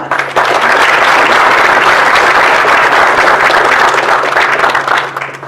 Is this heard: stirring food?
no